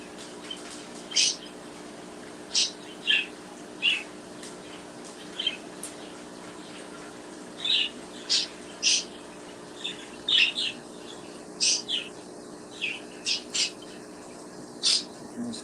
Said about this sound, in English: birds are partying down at 12:30 at night.